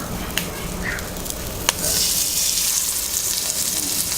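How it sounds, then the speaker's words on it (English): Dredged, seasoned chicken pieces brown in hot oil in a pan, a steady close sizzle that swells louder partway through, with a couple of sharp clicks and no talking. "just dredging the proteins, seasoning them up, and then throwing them in the pan and browning them up"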